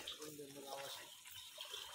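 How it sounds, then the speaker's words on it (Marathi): A perennial natural spring runs steadily, a close, continuous splashing gush with no pauses. "तर हा जिवंत झरा आहे"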